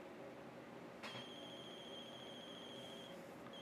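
A phone in the horror game The Closing Shift starts ringing about a second in, a steady electronic trill that continues over a quiet room-tone hum with no talking.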